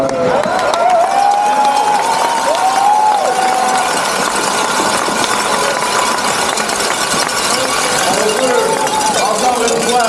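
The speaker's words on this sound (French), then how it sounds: "Encore une fois, applaudir nos représentants des officiels, Raphaël, notre mascotte, nos jeunes sportifs" An audience at the closing ceremony of the Jeux du Québec finals in Sherbrooke, 2024, applauds in a dense, steady wash of clapping that fills the whole stretch while a voice speaks over it.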